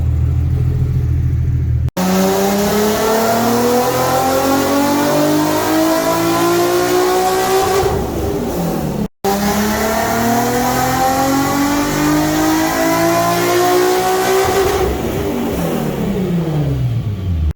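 A tuned Nissan R35 GT-R with dual exhaust and muffler delete, running on 91 fuel, revs hard on a dyno in two long pulls, its loud engine note climbing steadily in pitch before dropping off, separated by a brief pause.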